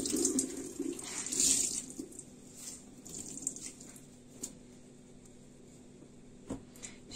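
Water running steadily from a kitchen tap into a sink, a fairly quiet continuous hiss with a few faint clinks and no talk.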